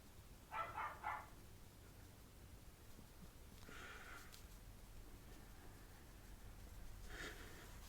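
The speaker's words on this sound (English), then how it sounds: "Next door's dog barking." A few muffled dog barks from next door in a quick cluster early on, then fainter yelps later, distant and heard over low background noise.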